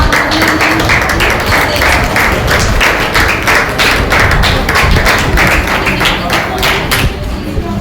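An audience welcomes a speaker at a session with steady, dense applause, many hands clapping continuously for the whole stretch, a loud and even roar of claps.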